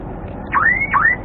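Two quick rising chirps from a Viking car alarm installed on a Suzuki Alto 800, each a short upward sweep, sharp and near, with nothing else over them.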